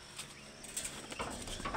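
Village birds call on an early morning, faint scattered chirps and a soft coo surfacing briefly over a steady background hiss.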